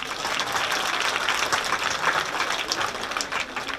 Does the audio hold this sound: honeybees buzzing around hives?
no